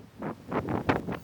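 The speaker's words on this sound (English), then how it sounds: "It's windy." Wind gusts buffet the microphone in several rough bursts of low rumble and hiss, close and fairly steady, with no voices.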